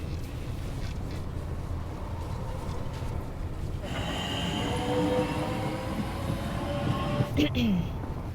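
A train running on rails, a steady rumbling roll with faint clatter and a brief squeal near the end, heard from inside with voices in the background.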